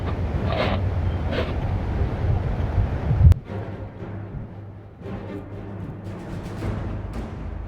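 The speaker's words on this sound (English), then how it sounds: "Must just be the wind." Wind blowing through a wintry outdoor scene in Skyrim, a steady, loud rushing gust with a brief sharp knock partway through before the whooshing carries on alone.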